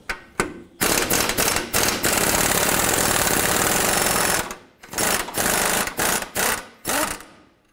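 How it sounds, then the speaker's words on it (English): A rapid-fire impact tool rattles loudly and up close while the 18mm lower shock bolt comes off a 2007-17 Jeep Wrangler. One long burst is followed by several shorter bursts, with no talking. "Using an 18mm wrench and an 18mm socket, we're going to remove this lower bolt."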